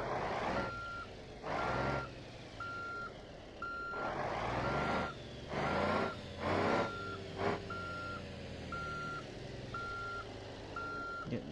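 A bus reversing in BeamNG.drive gives off a steady series of evenly spaced reversing beeps over a low engine rumble, with several louder hissing surges between the beeps.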